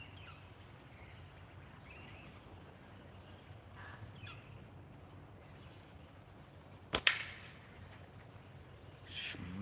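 A single slingshot shot at an outdoor target: one sharp, loud crack stands out against a quiet background of faint ambient noise and distant bird calls, with no talking.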